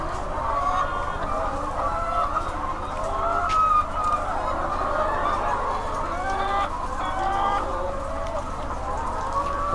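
Many chickens cluck and chatter continuously on a poultry farm over a low steady hum, with a cock crowing faintly in the background.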